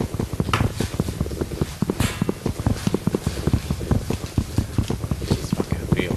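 Horse hooves clip-clop in a steady, fairly close rhythm in the video game Minecraft, with a brief voice passing over them.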